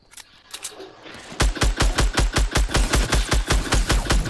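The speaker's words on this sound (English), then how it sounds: "There's people shooting at me." Rapid automatic gunfire in Fortnite Battle Royale, a fast, loud, evenly spaced burst of shots that runs without pause after a few scattered quieter pops at the start.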